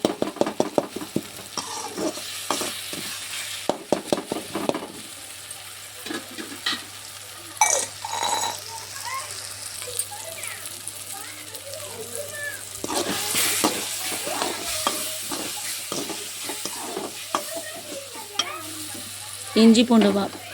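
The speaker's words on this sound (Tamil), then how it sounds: "இஞ்சி பூண்டு வாசனை போகிற அளவுக்கு நல்லா வதக்கி எடுத்துக்கலாம்." Ginger garlic paste sautéing with softened tomato in a pan for pepper chicken gravy, with a continuous close sizzle broken by the scrape and clink of a stirring spoon.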